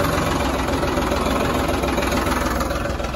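A farm tractor engine runs steadily on a field where mango saplings are being planted, giving a continuous loud, rough throbbing drone with a fast regular pulse, close by and unbroken by talk.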